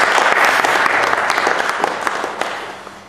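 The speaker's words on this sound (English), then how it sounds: "So I want to start off with a round of applause for Mayor Liaqat Saab and Councillor Lashari" A loud, dense round of audience applause at a community political gathering, honouring a mayor and a councillor. Steady clapping from many hands fills the whole stretch and eases off slightly toward the end.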